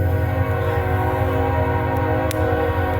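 A train rumbles past a campsite close by, loud and continuous, with steady low droning tones and a few brief metallic clanks.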